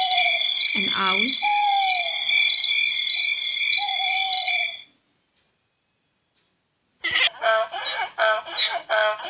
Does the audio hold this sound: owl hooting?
yes